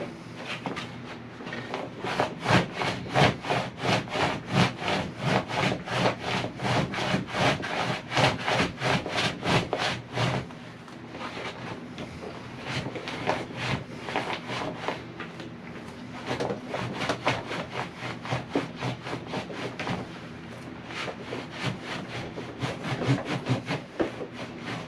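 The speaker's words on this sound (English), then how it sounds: "I've been working this hide on this mink board" A fur hide is worked back and forth over a wooden mink board during home tanning, a continuous rhythmic rubbing and scraping of hide on wood with fast, even strokes, close and steady throughout.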